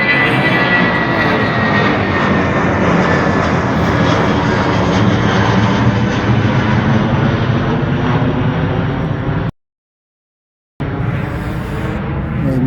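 An airplane passes overhead at night, a loud continuous engine roar with rising and falling tonal whine that fills the scene, broken by a brief total dropout near the end before the roar resumes, no talking.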